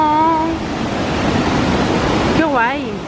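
A waterfall at Misol-Ha in Mexico, heard on a hot day as a steady, loud broadband roar of falling water that continues throughout, with people talking briefly at the start and again near the end.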